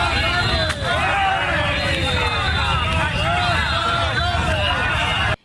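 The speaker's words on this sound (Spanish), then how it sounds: "Abucheos masivos con intervención de la policía" A large protest crowd booing and shouting in a dense, continuous roar of many voices, loud and sustained throughout before cutting off abruptly.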